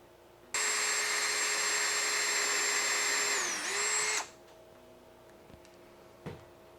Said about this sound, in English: I'm going to line it up and drill the holes for the other side.